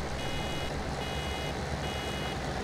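A vehicle's warning beeper in Farming Simulator 17 repeats in steady, evenly spaced tones over a continuous loud engine rumble, with no talking.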